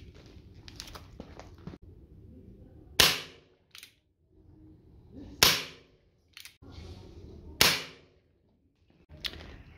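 Colt Peacemaker BB revolver firing 4.5mm steel BBs, four sharp loud cracks spaced a couple of seconds apart, each followed by a brief rattle, with faint clicks and handling noise in between.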